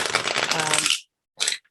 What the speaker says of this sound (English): Shuffling is its own ASMR.